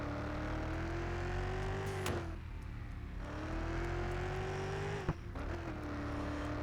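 A car speeds along during a police chase, its engine droning loud and steady with rising and falling pitch as it shifts, a sharp thump near the end.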